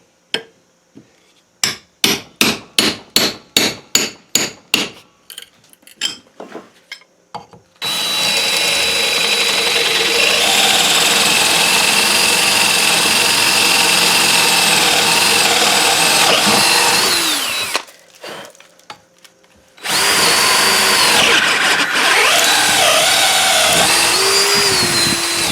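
A series of sharp hammer blows rings out close and loud, then a power drill whines steadily into a new wooden axe handle, pausing briefly before running again.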